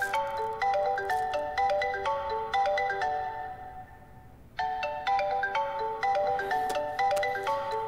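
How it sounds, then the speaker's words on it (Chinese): A melodic phone ringtone plays in a repeating chiming pattern, pausing briefly before starting again, loud and clear with no talk over it. "接一下电话。"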